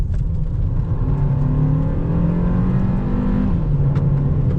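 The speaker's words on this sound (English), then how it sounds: "I'll just slow down a bit and give it full throttle" The four-cylinder engine of a 2025 Kia K4 GT-Line accelerates at full throttle from inside the cabin. It gives a loud, steady drone whose pitch climbs smoothly, drops briefly at a gear change, then rises again.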